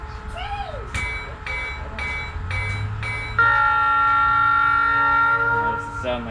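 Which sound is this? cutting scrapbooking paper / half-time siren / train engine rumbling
train engine rumbling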